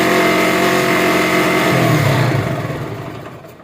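A Bajaj Pulsar motorcycle engine held at a steady high rev, loud and close, its pitch dipping and the sound tapering off near the end as the bike is switched off.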